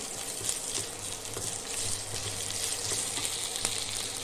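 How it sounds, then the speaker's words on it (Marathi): Ginger-garlic paste frying in oil with cashews for sprouted moth bean khichdi, a quiet, steady sizzle with faint stirring clicks throughout and no talk. "आता ह्याच्यामध्ये आपण घालूया ही आलं लसणाची पेस्ट जरा चांगली परतून घेऊया"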